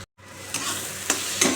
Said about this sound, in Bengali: আমি এটা একদম তেল দিয়ে ভালো করে ভেজে নিলাম